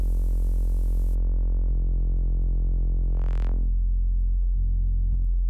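A thick, buzzing noise-saw synth bass drones continuously with a harsh, distorted edge, its tone shifting as a brief noisy sweep rises and falls.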